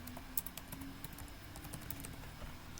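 Keys on a computer keyboard clack in a quick, irregular run as a single word is typed, close and fairly quiet, with no voices over it.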